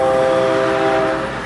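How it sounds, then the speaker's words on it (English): A train passes with its horn sounding, a loud sustained multi-tone blast over a rumbling rail roar, close and steady before tapering slightly at the end. "I got train noise"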